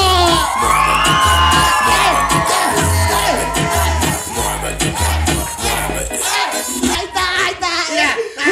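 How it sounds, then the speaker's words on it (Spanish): A lively audience at a clown show cheers, whoops and shouts loudly over thumping party music with a steady bass beat, the crowd noise dense and continuous throughout. "Aplaude y grita y le echa ganas."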